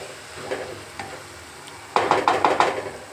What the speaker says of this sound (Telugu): ఆయిల్లో వేయించుకోవాలి వీటన్నిటినీ ఆయిల్లో ఒక పది నిమిషాల పాటు మగ్గించుకుందాం